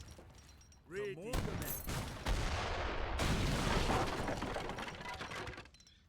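Naval cannon fire in the Age of Empires III strategy game: a burst of loud, booming shots and clattering impacts layered over continuous battle noise, with a voice talking briefly just before.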